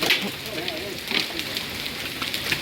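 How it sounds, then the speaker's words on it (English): Hail from a hailstorm in Spring Hill, Florida falls in a dense, steady patter of hard impacts, with a few louder bounces and a voice briefly heard under the rattle. "This tiny little hail."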